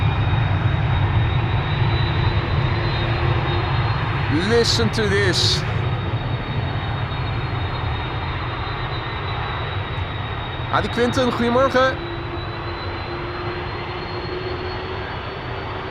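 An Airbus A310 cargo jet departing Amsterdam Schiphol Airport roars steadily, a loud continuous engine rumble and whine that fades slowly, while someone talks briefly over it near the start and again later.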